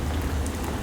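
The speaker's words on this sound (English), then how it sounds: "the rain just kicked in" Steady rain falls in the horror game Alone in the Dark, a constant broadband hiss of downpour with a low rumble underneath, filling the whole moment without any voices.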